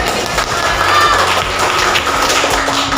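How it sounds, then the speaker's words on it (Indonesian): Students in an Indonesian classroom applaud at the close of a lesson, a loud, continuous wash of clapping with a low hum underneath. "Oke, dah semua ya, tepuk tangan"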